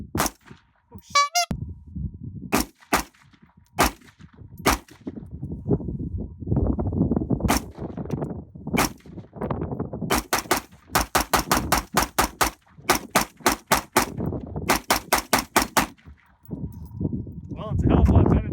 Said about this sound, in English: See if this muzzle brake sucks or not.